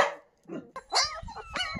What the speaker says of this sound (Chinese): 拉布拉多，你别叫了，你叫的小狗狗都害怕。